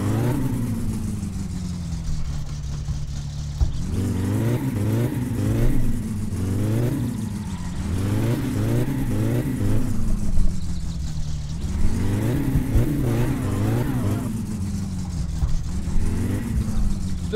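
A car engine revs hard in the driving game My Summer Car, climbing and falling in repeated bursts of throttle over a steady idle, loud and close throughout.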